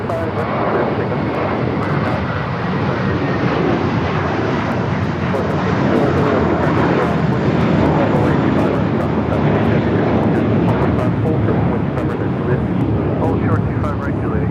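An Alaska Airlines jet arriving from Cabo roars steadily at Los Angeles LAX airport, a loud sustained engine drone that swells slightly midway, with radio voices talking faintly underneath.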